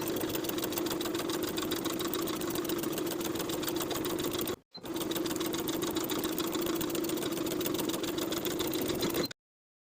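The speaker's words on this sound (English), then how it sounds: "we'll start stitching with a 5/8 inch seam allowance, starting at the center front dot, around the neckline" Sewing machine stitching a 5/8-inch seam around the interfaced neckline of a New Look 6594 flutter-sleeve midi dress, a steady loud mechanical whir running continuously with one brief stop partway through, no talking.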